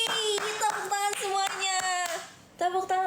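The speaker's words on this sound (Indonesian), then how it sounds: "tepuk tangan semuanya." Several people clap their hands in bursts during a live show, with short gaps between rounds and a pitched tone running underneath.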